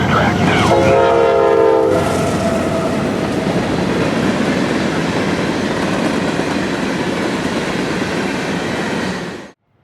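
A Norfolk Southern 61X freight train passes at speed on track 2 at milepost 101.6, loud and close, with a brief horn blast at the start and then a long, steady rumble and roar of rolling cars that cuts off abruptly near the end.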